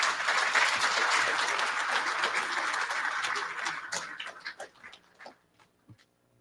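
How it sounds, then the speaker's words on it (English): A luncheon crowd gives a round of applause, loud and dense at first, then thinning into scattered claps that trail away to quiet. "Please give a round of applause to Brother Ellis and Brother Amar."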